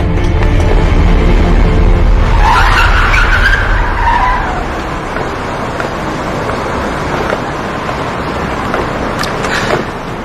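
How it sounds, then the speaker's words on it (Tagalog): A car skids with loud tire noise at close range, the screech fading into a lower roadside rumble after a few seconds. "May nagbanggaan."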